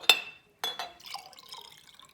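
Glass clinks twice, then rice water and peppermint oil splash and slosh briefly as they are mixed, quiet and close.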